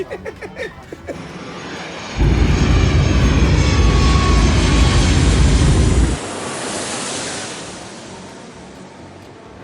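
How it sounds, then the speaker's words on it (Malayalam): Loud aircraft engine roar at Las Vegas International Airport, a steady broadband rush lasting several seconds that then fades into lingering wind-like noise, with no talk. "ഇതാണ് ലാസ് വേഗസ് ഇൻ്റർനാഷണൽ എയർപോർട്ട്"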